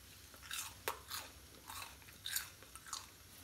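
Crispy fried Malabar rice pathiri being bitten and chewed up close, with several soft crunchy bites and chewing sounds, quiet and irregular.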